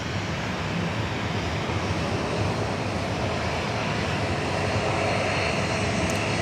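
LATAM airliner taxiing on Taxiway Alpha at Sydney Airport, a steady, broad jet engine roar holding at a constant level throughout, with no voices.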